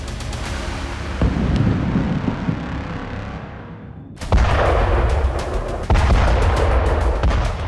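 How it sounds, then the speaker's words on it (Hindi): Deep, rumbling explosions from Israeli air strikes on Khan Younis, Gaza, roll out in a long booming wash that fades, then a sharp fresh blast hits with more thuds following, loud and continuous. "ये खान यूनिस इलाके में आईडीएफ की बेहिसाब बमबारी का एक और वीडियो सबूत है"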